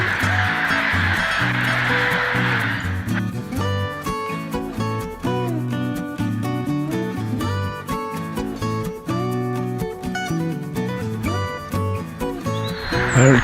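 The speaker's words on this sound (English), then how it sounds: "as I leave the lake behind me with all the noisy birds" Geese and ducks on a lake honk and quack noisily in a dense, overlapping chorus, loud and close, with a rushing wind-like hiss at the start and end.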